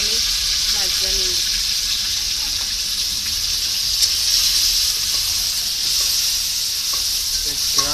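Cinnamon, cardamom and nuts fry in ghee, giving a steady close crackling sizzle throughout, with faint voices at moments in the background.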